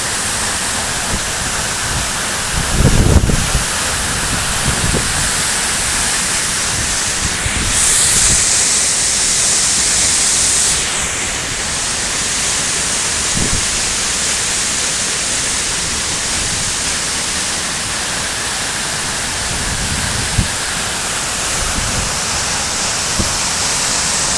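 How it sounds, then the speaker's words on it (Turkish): The Sırakayalar waterfall roars as a loud, continuous wash of falling water, steady and close, with a few brief low thumps and knocks along the way. "Evet Sıra Kayalar Şelalesi burası da."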